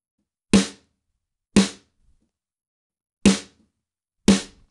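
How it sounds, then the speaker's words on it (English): A snare drum is struck four times, each crack sharp, loud and close, with a short decay. The hits are unevenly spaced with silent gaps between them, and there is no talk. "now on the snare drum"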